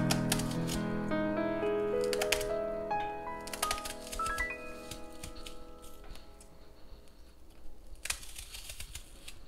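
A knife slices an onion into rings on a cutting board, giving sharp, crisp taps in an uneven rhythm over a melodic tone in the background.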